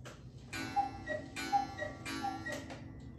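A cuckoo clock ticks indoors at a steady, even pace, each soft tick clear and close in an otherwise quiet room.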